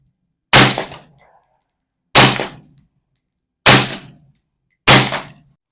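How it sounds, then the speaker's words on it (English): A rifle fitted with a standard mil-spec bolt carrier group fires four sharp, loud shots, evenly spaced about a second and a half apart, each ringing off quickly into silence. "First going to run it with the standard BCG in there, run a few shots"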